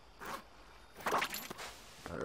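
A zipper pulling in Super Mario Odyssey's underwater Lake Kingdom, with two or three short, quiet rasping zips separated by brief gaps.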